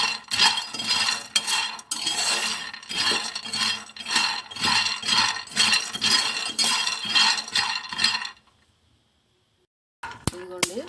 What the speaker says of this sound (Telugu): ముందుగా అయితే 1 కప్పు పల్లీలు తీసుకొని వేయించుకుంటాం. పల్లీలు అయితే బాగా వేయించుకోవాలి.